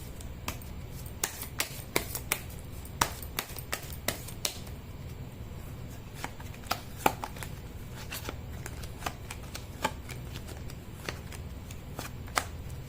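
Tarot cards being shuffled by hand, a steady run of crisp riffling and snapping card flicks with sharp clicks scattered throughout over a low room hum, no talking.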